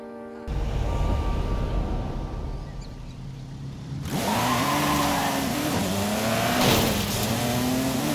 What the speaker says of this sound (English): Next up is the Mercedes-Benz Tankpool 24 Racing Truck Forza Edition.